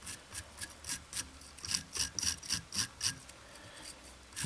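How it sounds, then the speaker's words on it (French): A small brush is stroked repeatedly over a fly-tying body dubbed with hare fur to tease the fibres out, giving a string of quick, close, scratchy rubbing strokes in an irregular rhythm, with no talking. "je brosse bien sûr la partie ici, mais je brosse également en fait le corps"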